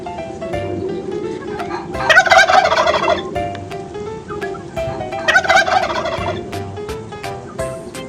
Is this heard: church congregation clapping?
no